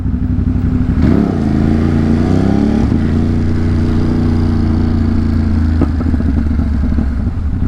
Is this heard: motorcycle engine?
yes